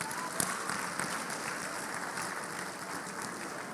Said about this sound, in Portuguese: Aplauda o Senhor, queridos.